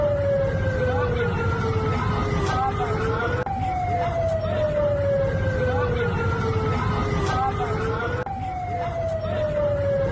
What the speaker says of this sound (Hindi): रात के अंधेरे में सायरन की आवाज बजती रही